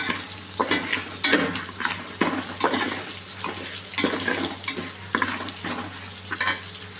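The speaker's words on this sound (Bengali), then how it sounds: "আমি ডাল আর ডালিয়া দুটো একসাথে ভেজে নিচ্ছি।" Lentils and broken wheat dry-roasting together in a pan for dalia khichuri, with busy, continuous scraping and stirring over a hissy fry and a low steady hum throughout.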